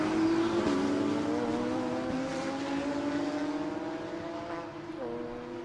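Lamborghini and Porsche GT race cars on a racetrack, engines droning loud and steady with pitch sliding down under braking into a corner, a continuous roar with brief gear-change steps.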